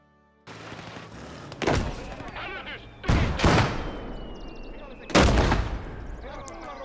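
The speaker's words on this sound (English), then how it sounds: "Oh wait, that's them shooting." Soldiers fire rifles in the World War II game Gates of Hell, three sharp loud bursts of gunfire cracking out about every couple of seconds over steady background battle noise.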